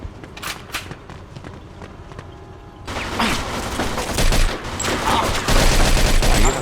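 Rapid gunfire bursts in the Mafia 2 Sea Gift mission on PC, opening with a few sharp shots, then a dense sustained fusillade of overlapping automatic fire and impacts, loud and close.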